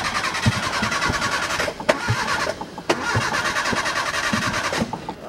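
A car engine cranks and catches, then runs with a steady, close mechanical roar, broken by two brief sharp knocks, while the motor keeps going.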